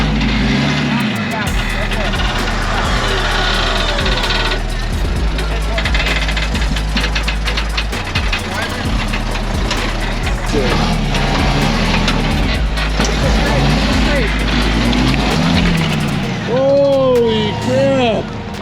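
A Jeep Cherokee rock crawler engine revving and knocking as it climbs over boulders, loud and close with surging revs, while people talk over it throughout.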